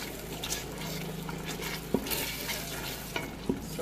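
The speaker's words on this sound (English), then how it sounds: "We're frying our egusi." Ground egusi frying in oil with pepper and seasoning, a continuous soft sizzle with stirring scrapes and a few sharp clicks of a utensil against the pot, close up and with no talking.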